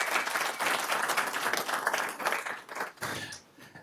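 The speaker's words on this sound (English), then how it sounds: "So give yourself a round of applause" Attendees at a city council meeting give themselves a round of applause, a full, lively burst of many hands clapping that thins out and tapers off in the final second.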